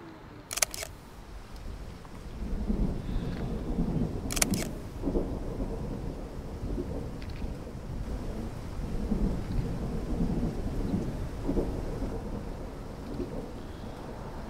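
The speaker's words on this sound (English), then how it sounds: "With storms looming on the horizon," Low rolling thunder from approaching storms rumbles on for several seconds, with sharp camera shutter clicks near the start and middle, under a steady outdoor background; no talk.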